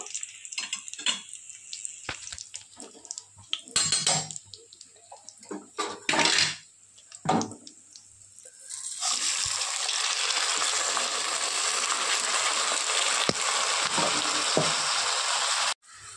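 Raisins fry in a pan with sporadic clatters and stirring knocks, then rice is tipped in and a loud, even sizzling hiss takes over and holds until it abruptly stops.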